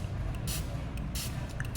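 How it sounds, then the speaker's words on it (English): Short hissing bursts from a spray bottle misting a hairline during wig glue removal, two longer sprays and a few quick puffs, close and fairly quiet over low background noise. "I'm just going to spray my hairline down"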